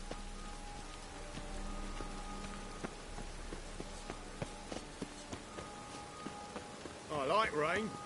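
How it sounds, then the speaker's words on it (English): Steady rain hisses and patters on surfaces in The Witcher 3, with scattered drips and faint footsteps, then a brief voice rises near the end. "I like rain."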